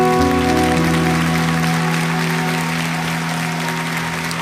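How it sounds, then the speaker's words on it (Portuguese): Church congregation applauding after a sermon vote, a dense steady clapping wash that fills the whole stretch, with sustained musical tones underneath and fading slightly toward the end. "Um aplauso ao povo do celeiro."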